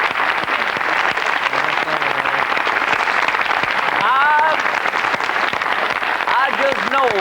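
Studio audience applause during a 1994 Irish TV telethon, a loud steady wash of clapping lasting throughout, with faint voices and brief tonal sounds rising over it partway through.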